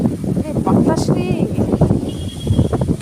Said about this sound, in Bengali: বাতাস রে,